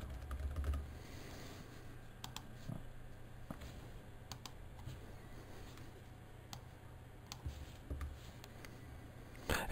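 Faint computer keyboard typing while coding a product class, a few sparse key clicks standing out over a low, steady background hum with no one speaking.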